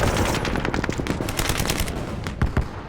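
Rapid bursts of automatic gunfire crackle continuously amid incoming mortar fire in the Vietnam War, sharp repeated shots layered densely with a few louder cracks near the end.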